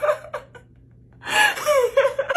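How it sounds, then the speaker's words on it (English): A person gasps for air in a comedy short: a few quick breathy intakes, a pause, then louder strained wheezing gasps with laugh-like, whimpering pitch toward the end. "The gasping for air."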